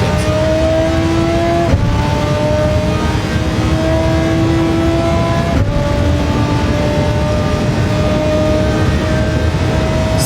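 A race car engine in Gran Turismo 7 drones loud and close, its pitch climbing through repeated gear changes during a manufacturers cup race.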